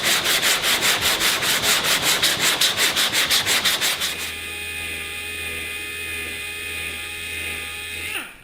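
A car body panel being sanded by hand with light pressure: about four seconds of quick, rhythmic back-and-forth rasping strokes up close, then a steady whirring hum with a faint tone until the end.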